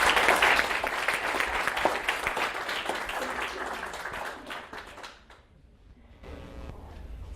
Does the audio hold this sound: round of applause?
yes